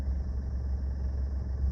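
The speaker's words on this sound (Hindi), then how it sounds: "ये देखो गाड़ी रुक गई" A car with a manual gearbox slows to a halt at low speed, clutch pressed and brake applied gently, leaving a steady, close low engine rumble at idle with no other sounds.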